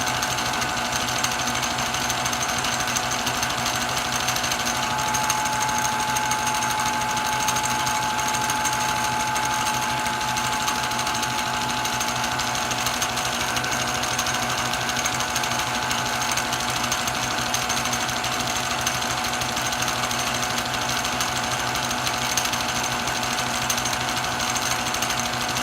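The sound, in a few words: new 100 amp generator running at 3,400 RPM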